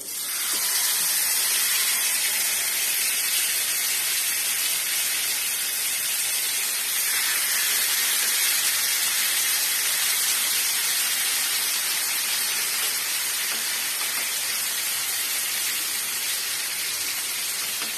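Chicken frying in a pan with a little white oil and butter, giving a steady, loud broadband sizzle that runs unbroken throughout with no talk.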